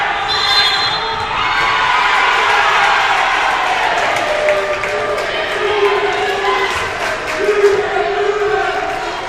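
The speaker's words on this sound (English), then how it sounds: "You can hear them, and you can see them there. We've got the crowd there." A student crowd cheers and shouts through a college volleyball match between Tabor and York College, a continuous loud roar of voices filling the gym with a few brief swells.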